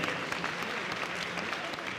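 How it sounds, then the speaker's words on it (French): Steady, dense applause from a crowd at an agricultural show, continuous clapping filling the whole stretch at an even level with no speech over it. "vous pouvez applaudir"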